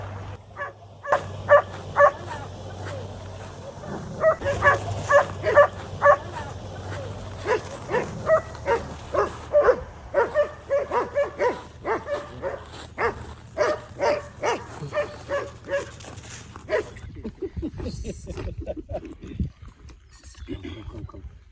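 Many dogs, more than twenty, bark and yip in a rapid chorus at a wildlife facility, the barks close and overlapping for most of the stretch before tapering off, with a low vehicle rumble underneath as a car drives in.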